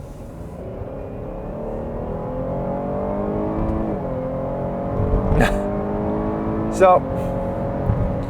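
A Cadillac XT6 with a GM V6 gasoline engine accelerates in Sport mode, engine tone climbing steadily through gears with brief shift dips, heard from inside the cabin under a short spoken word.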